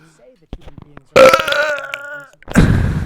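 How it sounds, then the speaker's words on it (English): A loud, drawn-out burp with a wavering tone during a livestream, with short vocal sounds before it and a raspy noise right after. "burp on stream"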